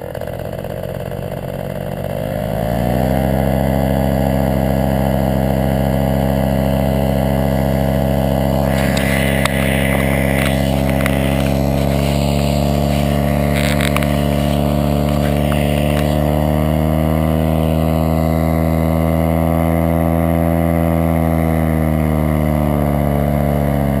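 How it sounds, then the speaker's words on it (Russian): A paramotor engine starts and settles into a steady, loud, droning idle as it warms up, running continuously and close by, with some brief rattling noises partway through. "А сейчас мотор заведем и немножко прогреемся."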